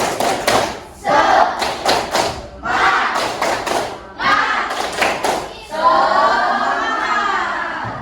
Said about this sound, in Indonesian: kita tepuk semangat bersama-sama